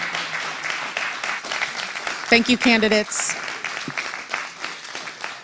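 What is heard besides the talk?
audience applause at a candidate forum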